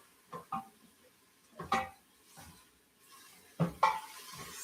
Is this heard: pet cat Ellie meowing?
no